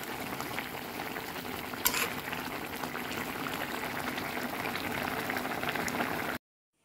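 Koi fish (climbing perch) cooks with pui shak (Malabar spinach) in a pot, bubbling and simmering in a steady, close boil with no voices, then cutting off abruptly at the end.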